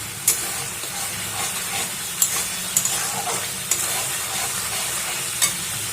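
Spices with added turmeric frying and being stirred in hot oil for a gram-flour curry, a steady close sizzle broken by sharp scrapes of the spoon against the pan.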